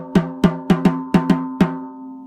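A snare drum with its snares disengaged and hanging loose is struck seven times in an uneven rhythm, each hit a clear, ringing, tonal thud that decays with a sustained hum, close and alone.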